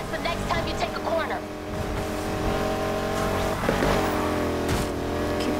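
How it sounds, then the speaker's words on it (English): Cars race and crash in the video game Need for Speed Heat, engines droning and revving with scuffs and thumps of impacts as vehicles bash each other and ram into trees, under a person talking. "Ramming into the trees."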